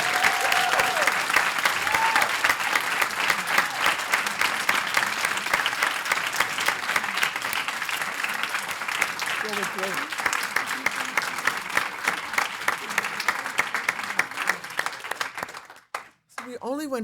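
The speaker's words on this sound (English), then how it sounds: "Would you join me in applauding these courageous women?" Sustained applause from an audience at a panel event honoring women activists, steady and dense clapping for most of the stretch, thinning out and stopping near the end as a voice comes in.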